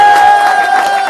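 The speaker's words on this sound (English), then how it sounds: "just let me know how much you can clap" A comedy show audience cheers and whistles in a brief, loud burst, with a sustained whistle tone riding over the crowd noise.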